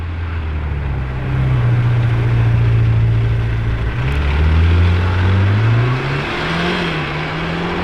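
Lamborghini Temerario engine, a loud steady drone that climbs and dips through several rising revs as the car passes close by amid outdoor traffic noise.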